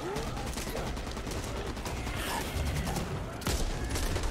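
Rapid gunfire from the zombie shooter video game Back 4 Blood, set in a gymnasium: dense crackling bursts of shots firing continuously at close range, with a stronger volley near the end and brief voices mixed in.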